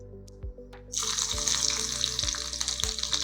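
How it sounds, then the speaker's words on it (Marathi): Green chillies drop into hot oil in a small tempering pan for a sweetcorn dhokla, and after a few quiet clinks a loud, close, continuous sizzle bursts out and holds steady. "या फोडणी पात्रामध्ये आपण पहिले घालणार आहोत मिरची"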